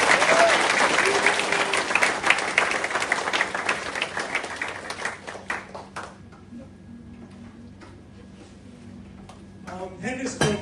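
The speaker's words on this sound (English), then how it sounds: "Give a big cheer to Henry." A crowd at a junior cricket club presentation night bursts into loud applause and cheering for an award winner, dense clapping that gradually thins out over several seconds before a brief swell returns at the end.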